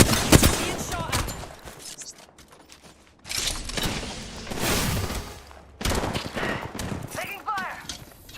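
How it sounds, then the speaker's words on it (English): Shots fired during a video game battle, bursts of impacts and crackles mixed with game voice callouts and talk, loudest early then recurring in several dense stretches. "Being shot at."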